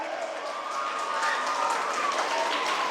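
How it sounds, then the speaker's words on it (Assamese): Audience applauding the organizers at a Bihu performance event, a steady dense patter of clapping from a large crowd that swells slightly and holds without a break. "এজাৰি হাত চাপৰি দিয়ক না উদ্যোক্তাসকললৈ"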